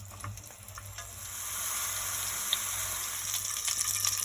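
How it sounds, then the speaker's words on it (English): Mushrooms fry in a pan for a spicy noodle soup with crispy tofu, giving a steady, close sizzle that grows louder and denser partway through and continues without any talk. "First I'm going to fry the mushrooms."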